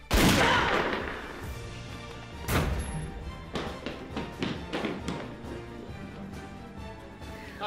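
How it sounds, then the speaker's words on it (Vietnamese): Gunfire in a Vietnamese action drama, a loud sharp burst at the start followed by another strong shot and a scatter of lighter cracks and thuds, set against a low background score. "Nổ súng đi, mau nổ súng đi."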